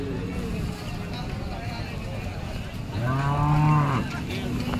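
A Jersey cow at the Sangola cattle market lows loudly once in a drawn-out moo near the end, amid steady market crowd noise and background voices.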